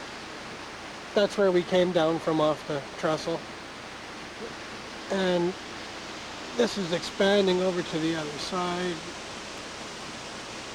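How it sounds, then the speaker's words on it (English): A big waterfall roars steadily beneath a railway trestle in a river valley, a constant broadband rush in the background while people talk over it in several bursts. "above the big waterfall. You can probably hear it in the background."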